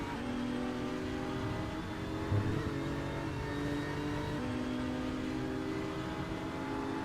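Onboard engine note of a BMW race car in the RaceRoom racing game, a steady loud mid-pitched drone that holds through the lap's last sector, its pitch stepping with gear changes and no talk over it.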